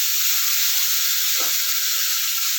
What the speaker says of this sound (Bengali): মোটামুটি মাছগুলো ভাজা হয়ে গেছে।